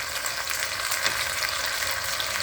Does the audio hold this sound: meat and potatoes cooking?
yes